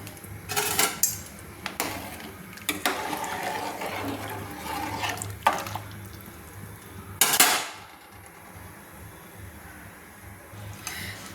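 Hot milk for payesh is poured from a pot into a bowl in a home kitchen, with several short splashy pours, clinks of metal utensils and a steadier liquid flow, close up, no talking.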